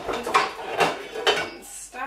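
A pot and a frying pan clank in a kitchen, with three distinct metallic knocks spaced about half a second apart followed by a scraping rattle, close and moderately loud.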